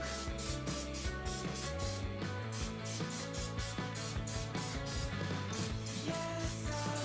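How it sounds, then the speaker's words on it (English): Short repeated hissing bursts of aerosol cooking spray onto a baking dish over a sink, in a steady rhythm, close by, over a faint background hum. "I just spray my baking dish with the little cooking spray here."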